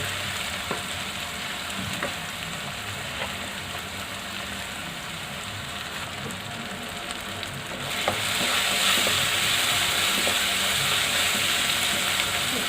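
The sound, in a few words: frying tomatoes in a pan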